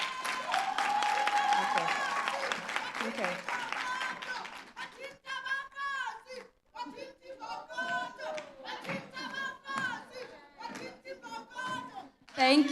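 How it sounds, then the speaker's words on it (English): A lecture audience at an SPU Women's Month public event breaks into dense, loud clapping that fills the first four seconds or so, then fades as a speaker begins talking. "Give yourselves a round of applause."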